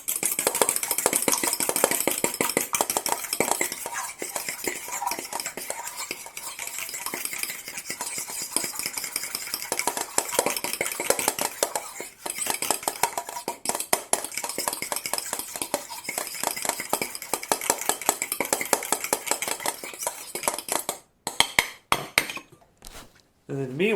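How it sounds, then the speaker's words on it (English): An egg beaten with a fork in a bowl, a steady run of quick light clinks and scrapes that carries on for most of the stretch before breaking off into a few sparser taps near the end. "And then the third one, an egg. And we'll just beat that egg up with a fork."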